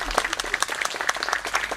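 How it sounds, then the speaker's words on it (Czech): Short burst of audience applause at a church event, brisk overlapping hand claps from a nearby crowd, fairly loud and dense for a couple of seconds. "zatleskejte, mamince"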